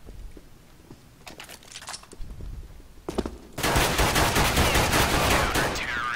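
Bursts of gunfire from CS:GO weapons in a competitive match: scattered single shots and short volleys at first, then a loud, sustained rapid-fire barrage filling the second half.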